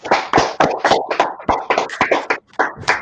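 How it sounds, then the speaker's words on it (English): A crowd claps at an ISUPK class gathering on West 125th Street in Harlem, New York: dense, steady applause rises and falls in loud waves for about three seconds, with a brief break near the end. "Clap it up."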